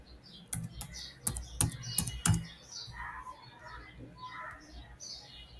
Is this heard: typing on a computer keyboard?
yes